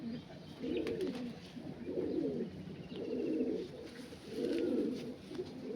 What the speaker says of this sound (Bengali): পায়রা দেখো